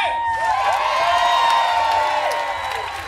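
A comedy club audience in Edinburgh cheers, whoops and applauds loudly in a continuous roar that holds steady throughout and fades slightly at the end.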